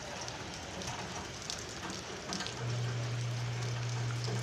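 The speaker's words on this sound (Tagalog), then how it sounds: "Umuulan." Light rain falls steadily, a dense soft patter and hiss on surfaces outdoors, with a low hum joining midway.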